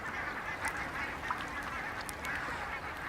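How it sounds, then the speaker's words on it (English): A crowd of waterfowl (ducks, swans and coots) packed together on the open water of a freezing lake, making a dense, continuous din of honks and calls, with no talking. "Ducks, swans and coots huddle together in the last open water holes."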